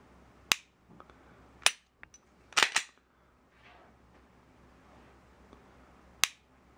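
Several sharp, crisp mechanical trigger-reset clicks from a Smith & Wesson M&P 2.0 pistol, spaced irregularly in a quiet room, a couple in quick succession, close and distinct.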